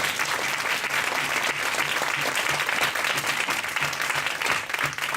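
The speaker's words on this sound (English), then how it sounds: "Can you clap for these two teachers?" An audience at a school board meeting applauds two teachers, with steady, dense clapping from a roomful of people that lasts throughout.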